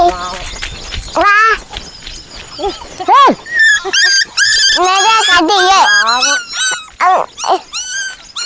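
Four puppies whimper and yelp in high, rising cries, some close and loud, with occasional low growls and short barks among them, while people talk over the squealing.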